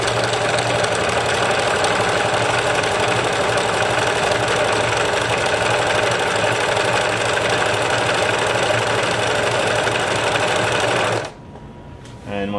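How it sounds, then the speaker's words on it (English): A Singer TouchTronic 2010 sewing machine winding a bobbin, a steady loud mechanical whir running unbroken for about eleven seconds before stopping abruptly, with no talking over it. "there's our bobbin winding mode, because it is able to shift the needle in and out"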